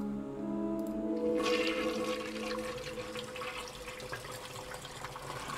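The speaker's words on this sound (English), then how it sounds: "Alright, very important to flush the toilet." A toilet flushes in the video game Darkness Within, a loud rushing swirl of water that builds after a second and drains steadily, with a faint lingering hum beneath, no voices.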